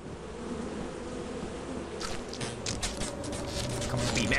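Bees buzz outdoors, a faint, continuous insect hum with brief louder passes partway through, and no speech over it.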